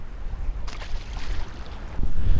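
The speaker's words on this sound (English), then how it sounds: "This wind is crazy." Strong gusting wind buffets the microphone on a boat on a lake during spring walleye fishing, with rough low rumble and a brief splashing surge near the end, loud and close.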